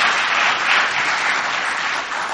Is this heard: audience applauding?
yes